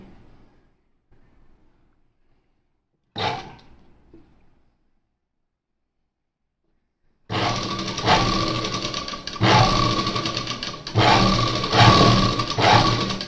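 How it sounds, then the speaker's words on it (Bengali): A sewing machine stitches wide double seams on a blouse, running in loud, steady bursts through the second half after near silence and a brief noise around the three-second mark. "এখানে ডাবল সেলাই আসে, এই জন্য এটা আমি একটু চওড়া করে সেলাইটা দিয়ে নিয়েছি।"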